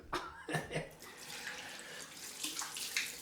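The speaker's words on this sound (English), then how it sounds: "Cold rinse time." A tap running cold water to rinse a Persona Red Platinum or Bic Chrome Platinum razor blade in a shaving setup, a steady close hiss and splash with a few brief bumps at the start.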